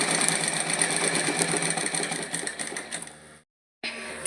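A Merit electric sewing machine stitching kurta fabric, a loud, close, fast rhythmic whirring chatter of the needle that runs steadily, cuts out briefly into silence, then starts again.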